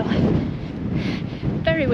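Strong gusting wind roars against the microphone near the top of Fusedale on a Lakeland fell during an ultramarathon, loud and continuous, with a voice speaking over it partway through.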